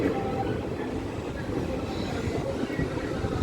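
The Koyna Express rolls into Jaysingpur railway station with a steady, fairly loud rumble and clatter of wheels, continuous throughout.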